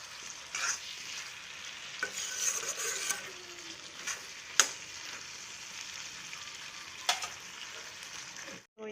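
Tomato and capsicum fry in a pan with a soft, steady sizzle and crackle, plus a few sharp clicks and stirring scrapes, faint and close by in a home kitchen, with no one speaking.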